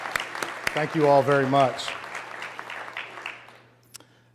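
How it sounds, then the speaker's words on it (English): Audience applause at a State of the City event breaks out at the start and fades away over a few seconds, while a voice speaks over it through an amplified system. "Let's give them a round of applause for their support of this event."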